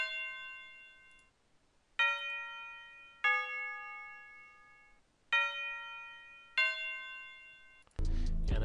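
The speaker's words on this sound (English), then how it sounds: "And then I added in this bell, which sounds like this." Bell sound in a futuristic glo-style trap beat, struck five times in a stuttered pattern with ringing tones that decay between hits, followed by a dense louder burst at the end.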